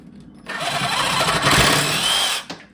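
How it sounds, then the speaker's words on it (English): A sawzall cuts through PVC sprinkler pipe in a single loud, close burst of buzzing, rasping reciprocating strokes lasting about two seconds, with no talk over it. "we're going to use the sawzall to be able to cut off a piece to show you how quick this goes"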